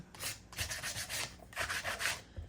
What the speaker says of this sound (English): I am gonna still take my sandpaper and just go over it a little bit.